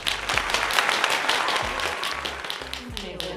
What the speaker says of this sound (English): Can I get a round of applause in the studio audience?